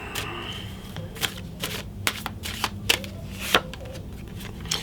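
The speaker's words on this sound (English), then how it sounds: "We're going to pull a couple more cards and see what is going to transpire in March." Tarot cards are shuffled and pulled by hand: a series of crisp, close riffling snaps and card flicks arrive in irregular bursts over a quiet room, with no one speaking.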